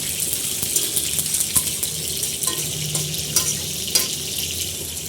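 Chicken fries in hot oil with whole garam masala (bay leaves, cinnamon, dried red chillies, cumin seeds and cardamom), giving a close, steady sizzle and crackle broken by occasional scrapes and clinks of stirring, with no talking.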